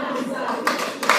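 Applause from a congregation at a church wedding ceremony, dense continuous clapping, fairly loud, with voices mixed in.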